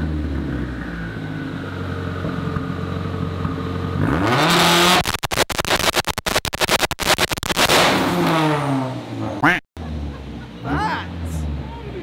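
A turbocharged K24-swapped Nissan Silvia S15 on a dyno idles with a steady low drone, then is revved hard into a loud, rising roar. Sharp pops and crackles follow before it drops back toward idle.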